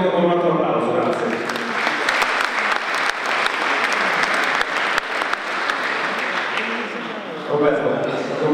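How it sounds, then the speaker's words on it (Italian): Audience applause at a ceremony, loud sustained clapping from a large crowd that holds steady for several seconds before a voice starts to speak near the end. "con un altro applauso"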